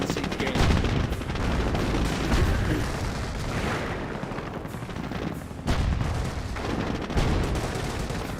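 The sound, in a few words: Vickers machine gun emplacement firing, from video game Company of Heroes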